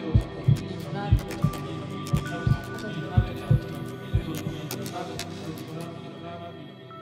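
Heartbeat sound in an art installation: a regular series of soft, low double thumps pulses over a humming, layered ambient drone, fading out toward the end.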